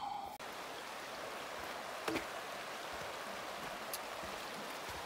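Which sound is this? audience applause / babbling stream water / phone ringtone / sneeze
babbling stream water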